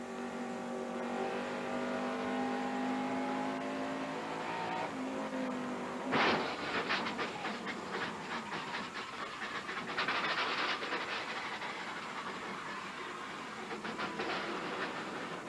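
A race car engine drones steadily, heard from an in-car camera at a 1990 NASCAR Winston Cup race, then a sudden harsh crunch is followed by scraping, rattling and grinding noises as the motor noise breaks up.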